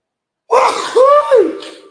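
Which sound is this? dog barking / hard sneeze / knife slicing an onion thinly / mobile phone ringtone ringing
hard sneeze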